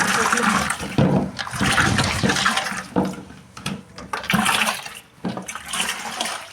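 Water splashing and gushing in uneven bursts, as if poured out from a vessel, with brief pauses and clatter between pours.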